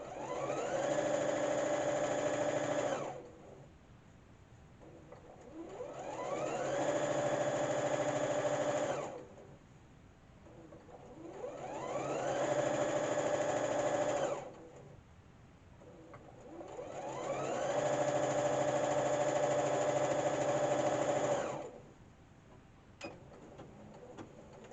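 Sewing machine stitching down quilt binding runs in four sustained bursts of steady motor whine and needle hum, each several seconds long, separated by quiet pauses, close and moderately loud.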